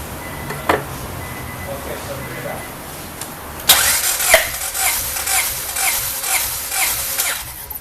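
Engine of a 1995 Honda Del Sol VTEC with a JUN 1.8L stroker cranking over on the starter during a compression test, a steady rhythmic churning of repeated strokes for several seconds after brief quiet with a faint voice beforehand.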